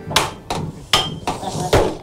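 A hammer strikes steel during the hand-forging of a wok, five sharp, ringing blows at an uneven beat, close and loud.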